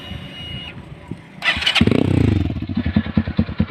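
A Zxmco KPR Cruise 200 motorcycle fitted with an aftermarket M4 exhaust cranks and fires up after a brief pause, then settles into a loud, throaty, pulsing idle close by.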